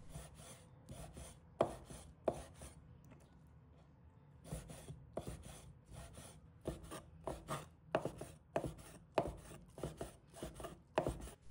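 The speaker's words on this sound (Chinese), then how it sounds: "鱿鱼也切成小块" A knife chops squid into small pieces on a cutting board, delivering sharp, close thuds in quick irregular bursts separated by short pauses, clear and unaccompanied by speech.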